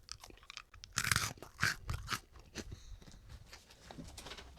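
Freeze-dried Sprees candy being chewed right at the mouth, with loud brittle crunches in irregular bursts that gradually soften into quieter chewing.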